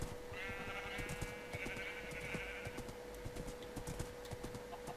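Steady clip-clop of horse hooves plodding along in Minecraft, with a brief bleating animal call in the first few seconds over a low background hum.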